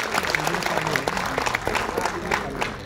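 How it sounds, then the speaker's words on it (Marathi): An audience at a social unity ceremony applauds the performing artists with dense, sustained clapping that fills the whole stretch at an even level. "पुन्हा एकदा जरा जोरदार जोरदार टाळ्या होऊ द्या आमच्या कलावंतांसाठी"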